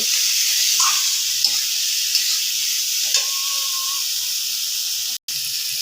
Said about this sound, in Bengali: আলুটাকে কষাতে হবে মশলাটার সাথে